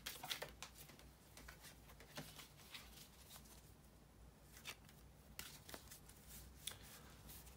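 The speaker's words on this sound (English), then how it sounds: "bear with me just a second, guys, to shuffle the tarot cards" Quiet, soft riffling and tapping of tarot cards being shuffled in short irregular bursts, close up against a faint background hum.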